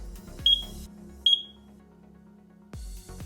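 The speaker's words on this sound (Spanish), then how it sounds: "he configurado ese pitido para saber cuándo termina ese" An AJAX home alarm system gives two short high-pitched exit-delay beeps about a second apart over a quiet low hum, followed by a burst of noise near the end.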